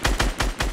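Fortnite battle royale gunfire, four evenly spaced rapid shots in a quick automatic burst, loud, punchy and close.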